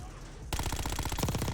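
A SAUG submachine gun in Black Ops firing a rapid sustained automatic burst, loud and close, kicking in abruptly after a quiet moment.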